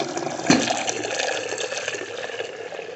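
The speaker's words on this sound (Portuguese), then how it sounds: "Começou a sair água escura." Dark, carbon-tinted water gushes from a water purifier just after its filter refill is changed, a steady close splashing flow with a sharper burst at the start and continuous rushing liquid throughout.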